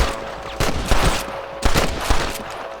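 Gunfire in a Red Dead Redemption shootout: several loud, sharp shots ring out in quick bursts over a steady hum, each crack followed by a short rumbling tail.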